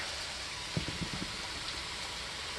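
Steady hiss of rain falling, a soft, even wash of noise with a few faint low knocks partway through.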